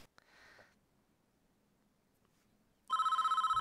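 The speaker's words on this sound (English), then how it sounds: "Incoming call." A telephone rings for an incoming call in the prison-management game Prison Architect, its bright electronic trill pulsing steadily and loudly after a quiet stretch with a brief faint sniff near the start.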